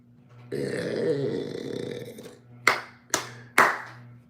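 A drawn-out belch-like vocal sound comes first, then three sharp, close hand claps spaced evenly about half a second apart, with a low hum underneath.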